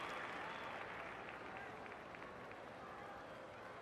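Crowd applause and cheering in the Cricket 24 video game after a powerful front-foot shot lands in the stands, a broad steady wash of clapping and crowd noise holding for the whole stretch at moderate level.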